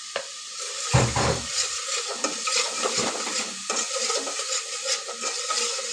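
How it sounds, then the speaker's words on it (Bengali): A utensil stirs spices, including turmeric, into a fish curry of shing fish and potol in a pan, making soft scraping and light sizzling sounds that continue steadily and close by. "আমি একটু নাড়াচাড়া করে দেখতেছি হলুদের কালারটা ঠিক হয়েছে কিনা"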